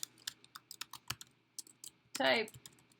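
Quick keystrokes on a computer keyboard tap in short irregular bursts, ending in a louder, longer clatter.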